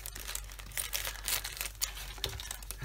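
Scissors cut through a small, well-wrapped birthday gift package, giving close, crisp crinkling and tearing of wrapping material in irregular bursts over a few seconds, with no talk.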